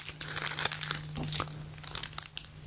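Sticker sheets from a brush lettering kit being handled up close, giving quiet, irregular crinkling and rustling in short bursts over a few seconds.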